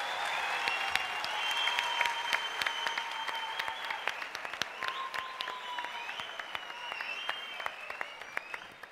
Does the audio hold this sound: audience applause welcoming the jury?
yes